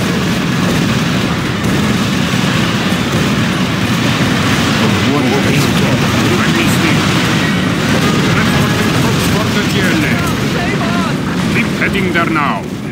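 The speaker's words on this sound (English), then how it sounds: "Firing rockets." Rockets fire and explosions boom in Command & Conquer Generals Zero Hour, a dense, loud, continuous barrage of blasts and crackling impacts with busy battle noise throughout.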